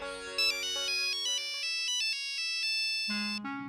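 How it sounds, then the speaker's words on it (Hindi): A melodic electronic phone ringtone plays a quick tune of bright synthesized notes, loud and close, with no voices. "मेरे बॉस का फोन है"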